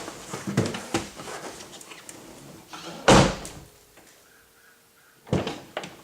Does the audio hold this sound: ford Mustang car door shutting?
yes